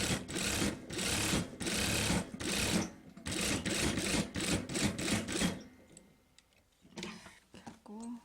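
Sewing machine stitching an A-line blouse, running in several loud bursts of rapid whirring with brief pauses between them, then stopping and leaving quieter handling and faint rustles near the end.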